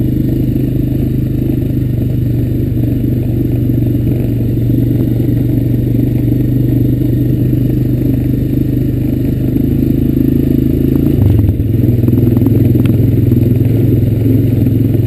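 A Honda Recon ES ATV rides a rugged trail with a loud, steady engine drone throughout. The pitch shifts and some clatter comes in toward the end.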